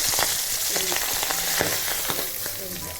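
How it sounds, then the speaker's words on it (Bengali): Small pabda fish frying lightly in hot oil, a steady close sizzle with scattered pops and crackles, occasional soft clicks of a utensil, no voices. "দেখুন, এই মাছ ভাজলাম"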